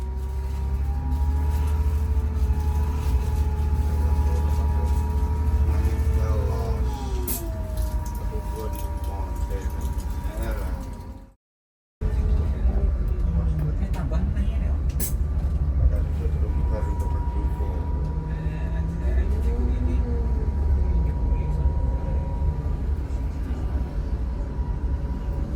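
A Nusantara Super Executive coach cruises on the road between Bandung and Semarang, a loud steady engine drone and road rumble heard from inside, with a brief dropout midway, then the hum resumes.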